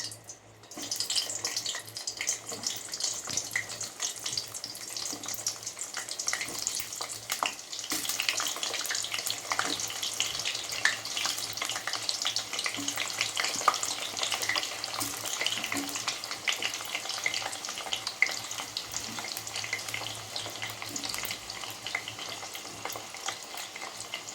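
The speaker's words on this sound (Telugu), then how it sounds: "ఇప్పుడు నూనె వేడెక్కింది కాకరకాయలని వేస్తున్నాం" Bitter gourd pieces frying in hot oil in a pan, a steady dense sizzle with scraping stirring strokes throughout, close and loud, continuing without talk.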